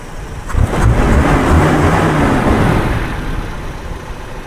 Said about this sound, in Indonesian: Digas spontan dikembalikan, harus RPM-nya kembali stabil ke stasioner, tidak terlalu rendah, tidak terlalu tinggi